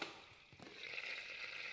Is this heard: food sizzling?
yes